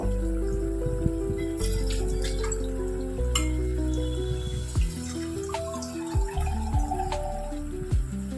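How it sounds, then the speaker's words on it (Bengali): Mutton sizzling and being stirred in a pan while cooked down for biryani, a steady close fry with scraping and clinks of a spoon over low background music, no talking. "সুন্দর করে এটাকে একটুখানি 2-4 মিনিট কষিয়ে নেব।"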